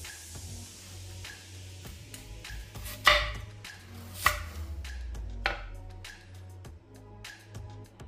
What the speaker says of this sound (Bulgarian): Следваща стъпка нарязваме ги на дебело.